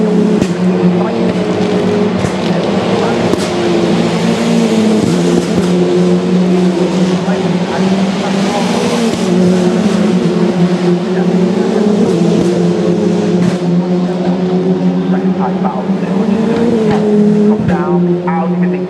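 TCR touring race cars thunder past at Oulton Park's Lodge Corner, a loud, continuous engine roar with layered harmonics and gear changes, overlaid by race commentary throughout.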